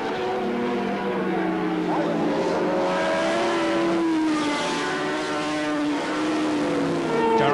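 Racing motorcycles at the 1988 British Superbike Championship, an RG Suzuki two-stroke among four-strokes, scream past in a loud, sustained engine wail that shifts in pitch as the bikes pass, under steady commentary.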